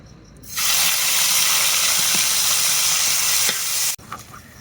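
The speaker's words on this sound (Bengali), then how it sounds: "মশলাগুলো দিয়ে মাছগুলো আমি কষিয়ে নেবো" Taki fish frying with spices in a hot pan gives a loud, steady sizzle and hiss that starts abruptly, holds for about three seconds, then cuts off sharply, followed by a few faint clinks.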